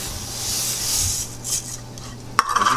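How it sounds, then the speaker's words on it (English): Quinoa poured into low-sodium vegetable broth at a boil gives a steady soft hiss and rustle for about two seconds, followed by a sharp metallic clink and brief clatter of a pot or utensil near the end. "I'm gonna add my quinoa to it"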